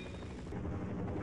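A helicopter in the game Half-Life thrums with a low, throbbing rotor drone, fairly faint but continuous throughout, with no speech.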